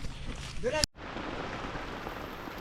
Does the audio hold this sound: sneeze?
no